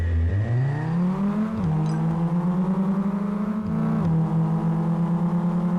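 A racing car engine in the VR racing game Megaracer Quantumrush holds a steady, loud whine. Its pitch rises as the car accelerates and dips briefly at each turn, with no talk over it.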